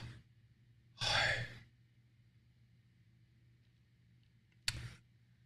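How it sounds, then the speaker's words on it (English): A slow, deep breath is drawn in close to the microphone in a quiet room, followed after a long pause by a shorter second breath. "if you will just kind of sit and breathe in, it sounds like Yahweh"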